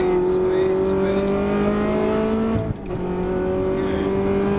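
A Ferrari on the Silverstone circuit holds a loud, steady, high-pitched engine note under acceleration, with a brief dip like a gear change partway through before the strain resumes.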